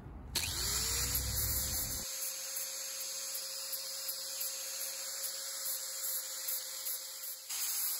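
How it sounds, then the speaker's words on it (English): A bench grinder spins up and grinds the mushroomed metal off a vintage Craftsman hatchet head, making a steady, loud whine and hiss that runs for about seven seconds before cutting off. "We're just going to grind this little mushrooming out here."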